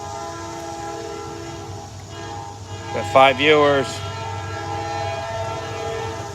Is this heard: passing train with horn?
yes